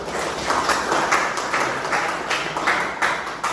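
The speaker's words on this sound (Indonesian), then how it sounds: "terima kasih tepuk tangan untuk semua" Applause in a classroom, a steady wash of clapping from students that swells and dips in soft waves, continuous across the whole stretch with no voices standing out.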